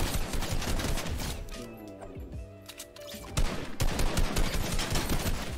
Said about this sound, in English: let's get some AR shots.